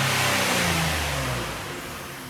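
A Ford Taurus 3.5-litre engine with a cold air intake revs hard, giving a loud, close roar that slowly tapers down as the revs fall. No voices are heard.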